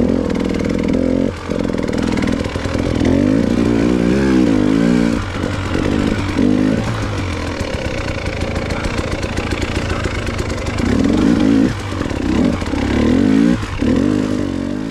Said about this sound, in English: this ride was really about proving the bike was good to go